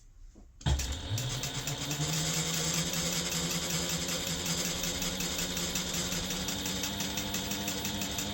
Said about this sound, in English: I'll just make sure that I'm sewing directly along my previous line of stitching.